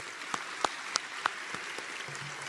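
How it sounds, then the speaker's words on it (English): A nursing graduation convocation audience gives a soft, steady round of applause, with a few sharper individual claps standing out near the start and a brief tone near the end. "Let's give these teams a round of applause for their assistance tonight."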